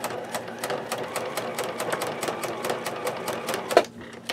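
Sewing machine stitching a metal zipper onto a bag, a steady rapid mechanical clatter of needle strokes running close and continuous, with a slightly louder knock near the end before it stops.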